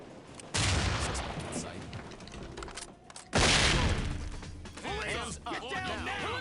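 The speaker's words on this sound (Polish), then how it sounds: "C4 i hukowy, to jest to." A C4 breach charge and a flashbang go off in the SWAT 4 video game as two loud, sharp blasts about three seconds apart, each followed by a rumbling tail, with voices talking throughout.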